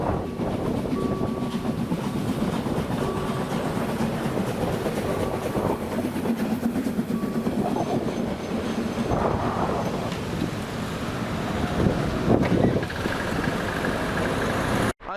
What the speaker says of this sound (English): I did something with horses and then came across this steam train.